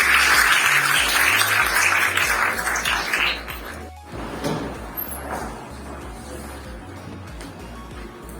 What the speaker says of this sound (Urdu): آپ کی بھرپور تالیوں میں محمد صدیق طاہر صاحب